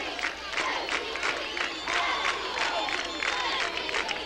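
Football crowd at a GP vs Seymour high school game cheering and yelling in dense, continuous waves, loud and close, with a few voices shouting out above the roar.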